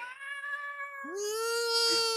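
A cat meows in a long, drawn-out call that rises into a louder, strained wail near the end, close and clear with no talking.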